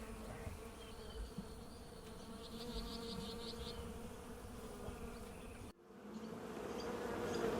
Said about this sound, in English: His bees live in wooden hives.